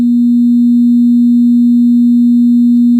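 A steady, pure 240 Hz sine tone holds at constant loudness for about three seconds, with no other sounds.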